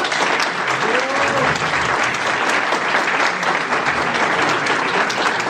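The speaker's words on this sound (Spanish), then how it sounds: "a quien les pido también un aplauso" An audience at a university lecture applauds for professor Fernando Manzanilla, with loud continuous clapping from many hands filling the room at an even level throughout.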